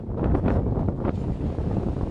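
Strong wind buffets the microphone in a loud, continuous roar with low rumbling gusts at Mahon Falls in the Comeragh Mountains, Ireland; no speech is heard.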